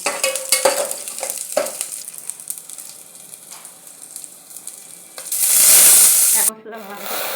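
Panch phoron spices fry in oil in a pan. Scattered clinks and stirring scrapes give way to a quiet sizzle, then a sudden loud, hissing burst that lasts about a second before cutting off.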